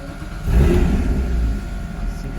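A Porsche Cayman GT4 with a six-speed manual gearbox starts up close by, its engine catching and rising in a short rev before settling into a steady idle.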